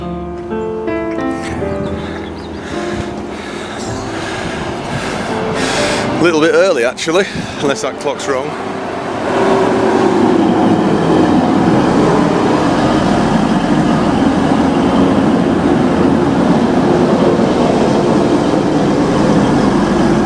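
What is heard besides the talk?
train arriving at station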